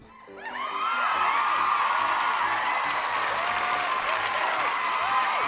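A studio audience claps and cheers for Cassius, the noise swelling in over the first second and then holding as a dense, steady wash of applause and whoops with no talk over it.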